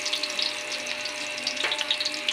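Garlic, onion and ginger being mixed in a hot cooking pan, a steady bright sizzle with light stirring, close and moderately loud, no speech.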